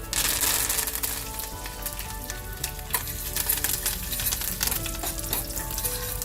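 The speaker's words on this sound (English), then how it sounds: "Now be careful, this splutters if it's fresh curry leaves." Fresh curry leaves spluttering in hot oil with cumin seeds and chana dal, a loud close crackle that bursts at the start and settles into steady sizzling with scattered pops and stirring, no voices.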